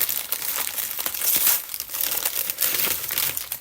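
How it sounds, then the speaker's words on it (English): Crinkly plastic and paper wrapping on a gifted trading card package being torn and unwrapped up close, a steady run of loud crumpling and ripping with no talking. "Unwrapping."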